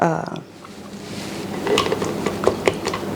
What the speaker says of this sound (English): Why do these lids act like they don't want to go on here?